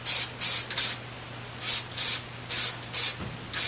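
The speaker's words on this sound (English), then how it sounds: "keeping the can about 10 inches away, and this is giving you little droplets of spray instead of a sheeting coat of spray" Matte Plasti-Dip hisses from an aerosol can in a string of short, even mist bursts with brief gaps between them, held about ten inches off the surface, close and clear with a faint steady hum underneath.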